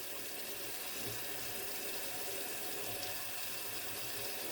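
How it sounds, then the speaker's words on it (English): Tap water runs steadily into a sink as soap is rinsed off hands, lower arms and wrists, a continuous even splash and hiss with no talk. "Now you can rinse and make sure you remove all soap from your lower arm, wrist, and hands"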